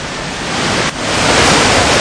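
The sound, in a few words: rushing flood water in Uttarkashi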